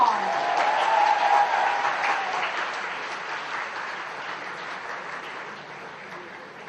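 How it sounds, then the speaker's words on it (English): Audience clapping at the closing ceremony of the Kashish Mumbai International Queer Film Festival, a broad steady wash of applause that starts fairly strong and gradually thins out, with faint voices murmuring underneath. "I think you can clap louder than that."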